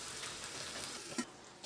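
Egg and onion masala sizzles in a pan over a medium flame, a steady close frying hiss with one brief louder crackle near the end.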